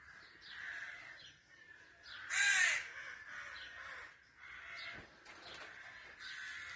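Several crows caw outdoors, harsh calls repeating at irregular intervals over faint background ambience, with one louder, nearer burst partway through and no talking.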